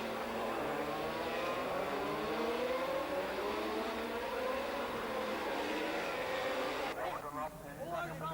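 A Honda 750 superbike races flat out on a public-road circuit toward Portrush at the 1990 North West 200, its engine a loud, steady roar that holds throughout while a commentator talks over it.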